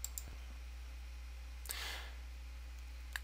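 Computer mouse clicks on a software installer's Next button, a few faint, sharp clicks spaced apart over a steady low hum, with no talking.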